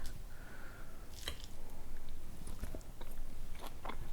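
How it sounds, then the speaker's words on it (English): Someone bites into a dressed kale salad and chews it, producing soft crunching and moist squishing bites up close, fairly quiet with no talking. "I'll give it a taste anyway."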